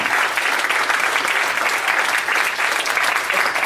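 A fan-convention crowd applauds during a Q&A with voice actor Rob Paulsen, a continuous, full burst of clapping that holds steady throughout with no voices above it.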